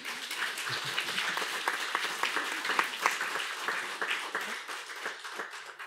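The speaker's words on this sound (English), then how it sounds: "give a big round of applause also to our team" An audience at a conference applauds the organizing team with a sustained, even round of clapping that lasts throughout at moderate loudness.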